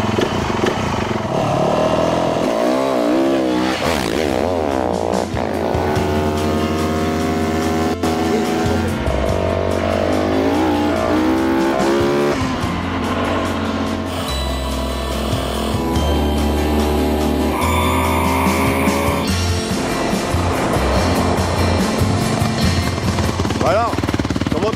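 A 500 motorcycle engine runs close by, revving up and down in rising and falling sweeps, with throttle blips and a rough idle between pulls.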